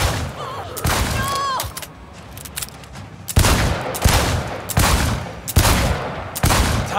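Gunfire at a shooting-game range in Cyberpunk 2077: bursts of rapid shots in clusters with short pauses, loud and close, with a brief musical chime early on.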